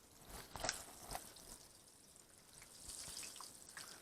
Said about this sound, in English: Rinse my tongs real quick so I can get the sugar off of them.